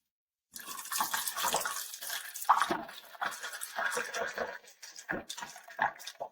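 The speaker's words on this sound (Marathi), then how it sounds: "त्यानंतर आपल्याला टाकायचं आहे थंड पाणी" Cold water is poured into raw mango (kairi) syrup in a container, giving irregular splashing and gurgling bursts that come and go, fairly close.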